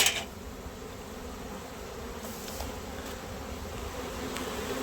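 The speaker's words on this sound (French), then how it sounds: "vous pouvez pas être au plus près des abeilles" Honeybees buzz steadily near the entrance of their hive, a continuous close, dense hum holding at an even level throughout with no voices.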